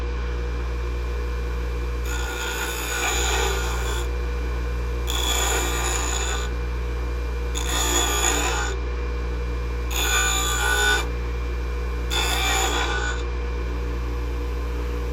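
A Harbor Freight bench grinder rounds off the end of an old Cobalt tool, the wheel humming steadily while five bursts of bright, hissing grinding come and go at regular intervals as the metal is pressed against it.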